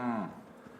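A single short moo from a cow in Kingdom Come Deliverance 2, fairly close and clear, falling away quickly into quiet.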